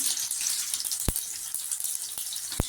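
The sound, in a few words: mustard seeds and urad dal sizzling in hot oil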